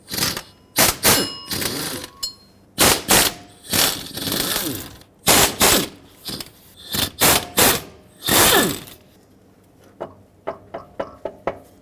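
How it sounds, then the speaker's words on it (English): A hand ratchet with a 15mm socket works fasteners off a 2008–2010 Ford F-250, giving loud close bursts of rapid clicking that stop and start repeatedly, ending with quicker, lighter clicks. "So again, 15mm socket, remove them all."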